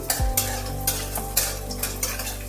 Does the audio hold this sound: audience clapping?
no